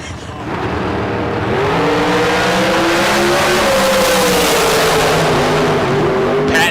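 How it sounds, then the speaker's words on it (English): A race car engine howls at full throttle during a K&N Spring Fling Million drag race, a loud sustained roar that climbs steadily in pitch and holds near, with a brief break at the very end. "just romping the throttle pedal"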